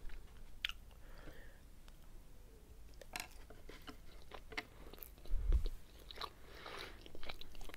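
Close, quiet chewing of sushi rolls in an ASMR mukbang, soft squishy bites and mouth sounds scattered throughout with occasional light clinks of utensils and a brief louder bump.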